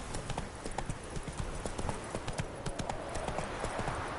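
Roach the horse gallops in The Witcher Wild Hunt, a brisk, steady run of clip-clop hoofbeats repeating evenly and fairly close throughout.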